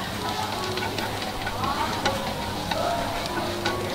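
Garlic, green chili and onion sizzle steadily in a pan over medium heat while being stirred, a continuous close frying crackle with light scraping and faint speech in the background.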